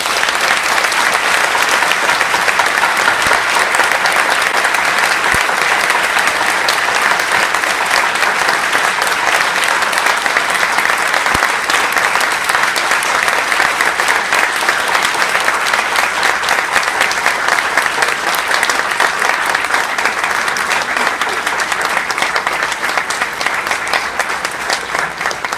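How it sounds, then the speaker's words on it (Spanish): A large crowd in a law school tribute ceremony applauds with loud, steady clapping that continues without pause for nearly half a minute. "el doctor Héctor Fix Zamudio, para quien pido un caluroso aplauso por estar aquí en esta su Facultad de Derecho."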